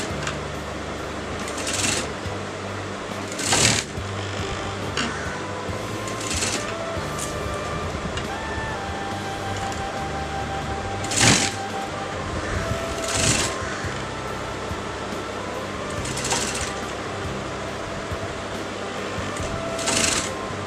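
A sewing machine stitches fabric together for a garment neckline, a steady mechanical whir running the whole time with a few louder bursts, close and with no talk over it.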